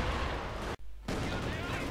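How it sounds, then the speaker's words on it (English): A Stalin organ rocket barrage in the video game Company of Heroes 2, a loud continuous roar of launches and blasts that cuts out briefly and then resumes at full force. "a very loud rocket barrage here from the Stirling organ"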